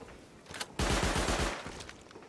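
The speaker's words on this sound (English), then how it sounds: "he shoot through the table" Gunfire rips through a video game raid in a rapid, loud automatic burst lasting under a second, preceded by a couple of sharper single shots, with no talking over it.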